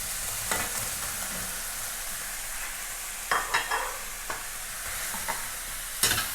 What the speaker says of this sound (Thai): เราผัดไปสักสักครู่หนึ่งก่อน